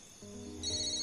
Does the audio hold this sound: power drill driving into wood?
no